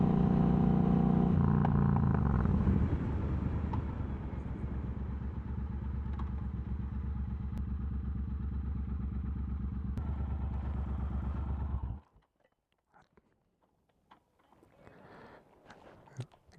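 A bobber motorcycle engine rumbles loudly and steadily as it rides along in the evening, deep exhaust throbbing continuously, then cuts out abruptly leaving faint clatter and quiet.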